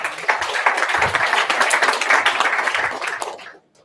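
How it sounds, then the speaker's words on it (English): Audience applause greeting a speaker as he comes up at an afternoon talk, a dense wash of many hands clapping steadily for over three seconds before cutting off abruptly. "Round of applause for Richard, please."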